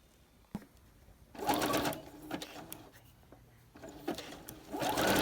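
Sewing machine stitching stacked ribbons in two close bursts of fast, whirring needle action, separated by quiet pauses with light handling clicks.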